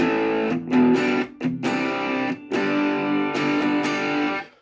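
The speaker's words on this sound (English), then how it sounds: "you're still going to get a little bit of distortion out of the DS1W, whichever mode that you're in" Electric guitar played through a Boss DS-1W distortion pedal with the gain at minimum, giving lightly gritty, rich-sounding strummed chords struck in short bursts with brief gaps between them, close and fairly loud.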